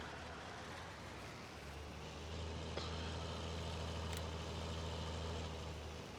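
A tractor engine in the video game Farming Simulator 19 drones at a steady low idle-like hum, quiet and constant, rising slightly partway through.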